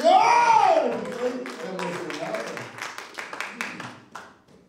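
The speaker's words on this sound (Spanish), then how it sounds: "¡Alguien le dio aplauso al Señor!" A church congregation bursts into scattered hand clapping after a loud shouted cry, the applause thinning into separate claps over a few seconds, with voices mixed in.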